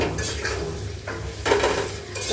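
Food sizzles in oil while a utensil scrapes and clinks against the pan in short irregular strokes, close by, with no talking; chillies frying in oil before shrimp or gourd leaves are cooked.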